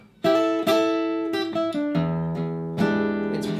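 A riff played on acoustic guitar with hammer-ons, clear close plucked notes and chords ringing out in a quick, uneven phrase, alone without talk.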